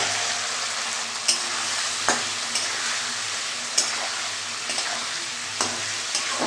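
Potatoes sauté in spice masala in a pan, a strong continuous sizzle broken by regular scraping stirs and light clinks of a spoon against the pan, with no talk.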